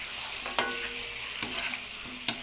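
Chicken fries and browns in a pan with a steady close sizzle, punctuated by a few sharp clicks and scrapes of stirring.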